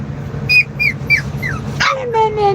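A young dog whines in a series of high, rising whimpers, then lets out a few short, strained yips as it tries to bark, close by over a low background hum.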